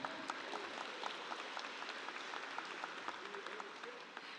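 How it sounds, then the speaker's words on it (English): Audience applause for students at a Baltimore City public school college and career exploration graduation ceremony, fairly quiet and steady, with dense clapping and a faint voice or two underneath. "Clap for that."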